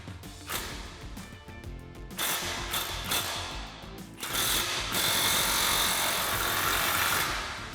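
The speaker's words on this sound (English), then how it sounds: "we'll go ahead and snug up our clamp using our 15mm socket" A ratchet fitted with a 15mm socket snugs up an exhaust pipe clamp on a 2015-2022 Mustang, giving rapid clicking bursts in several short strokes, close and clear with no talk.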